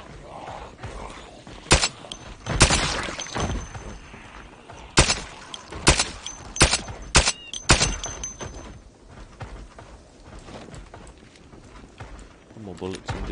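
Sharp gunshots ring out from a firearm in Project Zomboid, arriving as several separate loud cracks in an uneven sequence while someone talks over them.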